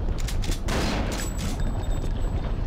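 Gunfire in the PC game Messiah, a dense, loud rattle of rapid shots with booming low impacts running nonstop, close and without speech.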